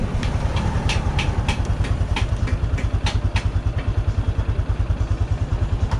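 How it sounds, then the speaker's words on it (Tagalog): A Honda XRM 125 fuel-injected motorcycle engine idling with a faulty rectifier, a steady close low putter with even rapid pulses and faint ticking on top, no talk. "Yan mga boss, umaandar na siya, ano."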